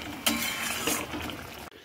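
A spoon lightly stirs pointed gourd curry in a pot, giving two soft scraping strokes against the metal, close and fairly quiet, ending with a faint clink.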